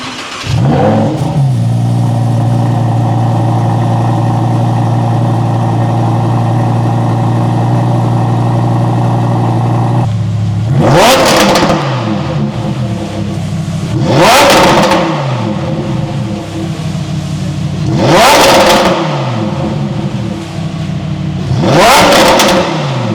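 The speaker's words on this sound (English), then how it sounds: "So, bro, what do you think of the titanium exhaust system, bro? I think it already sounds great right now." Lamborghini Huracan STO with a titanium exhaust system, first holding a steady loud drone, then blipping through four sharp, loud revs that rise and fall at regular intervals, close by with no talk.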